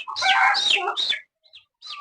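A mother hen clucks close by in a short, busy burst of calls, then goes quiet before a couple of brief clucks return.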